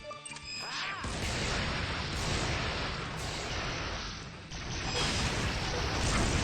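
A Rhino missile fires in the video game Metal Max Xeno, a loud sustained blast with a crashing roar that rolls on for several seconds, surging again near the end, with no voices present.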